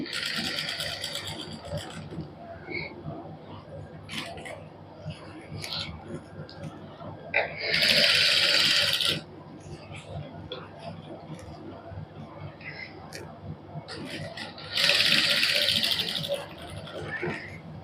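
A sewing machine stitches fine lace onto a neckline in a tailoring workshop, running in two loud bursts of about a second each, separated by quieter handling and soft talk.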